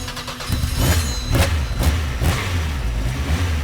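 Fiat Grande Punto S2000 rally car engine in the SLRE video game, revving in repeated rising pulses with a steady mid-pitched drone underneath, close and continuous.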